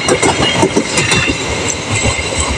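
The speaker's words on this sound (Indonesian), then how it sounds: "Kereta api Dharma Wangsa dan kereta api Gajah Wong sudah melintas di ujung barat stasiun Cikarang." Dharma Wangsa and Gajah Wong passenger trains rolling past the west end of Cikarang station in Indonesia, loud close clickety-clack of wheels over rail joints with a rumbling carriage roar, no talking.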